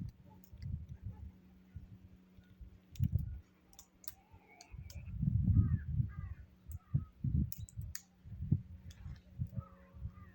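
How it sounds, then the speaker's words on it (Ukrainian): Scattered dry crackles and pops sound irregularly, like pine cones splitting open in heat, with faint birdcalls in a quiet outdoor setting. "Не знаю, чи чути, як тріщать шишки."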